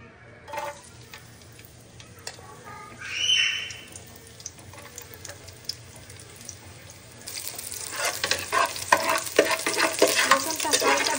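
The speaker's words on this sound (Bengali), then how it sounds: "কিছুটা তেল দিয়ে ওর মধ্যে দিয়ে দিব রসুন কুচি" Chopped garlic frying in oil in a wok, with stirring scrapes and a soft sizzle that grows louder and denser in the last few seconds, no voices.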